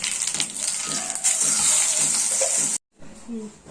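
Loud, hissing sizzle of cumin seeds and dried red chilies dropped into hot oil, crackling continuously before cutting off abruptly, then faint stirring and a low voice.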